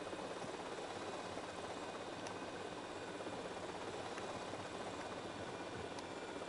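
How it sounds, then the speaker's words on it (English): A helicopter in GTA Vice City, The Definitive Edition, gives a steady, unbroken rotor and engine drone that stays even and fairly quiet throughout, with no voices. "there's a helicopter inside their construction place?"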